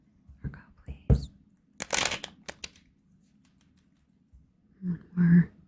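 A few quick papery riffles and flicks of tarot cards being shuffled, with soft whispering before and after.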